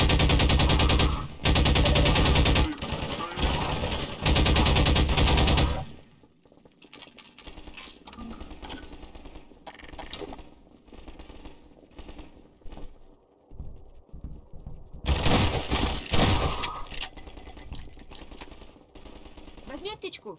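Bursts of rapid gunfire in Half-Life 2 rattle loudly, then fade into quieter game sounds and scattered shots before another heavy burst near the end.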